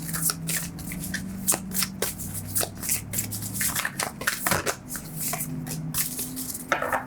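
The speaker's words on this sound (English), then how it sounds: "but I'm going to shuffle more." Tarot cards being shuffled by hand up close, rapid riffling and flicking bursts in an uneven rhythm, with a faint low murmur beneath.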